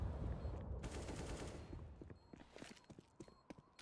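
Counter-Strike gunfire from a professional Nuke match, including AWP sniper rifle shots: several sharp, loud cracks and a few quicker bursts over a dense, rumbling game soundscape with footsteps.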